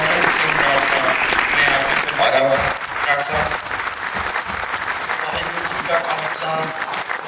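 Loud, dense audience applause at a Sikh arts and film festival performance in India, sustained without a break for about seven seconds.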